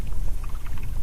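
A Whopper Plopper topwater lure ripped across the surface while fall bass fishing on Lake Fork, giving a steady, choppy splashing and gurgling of churned water for about a second, close and fairly loud.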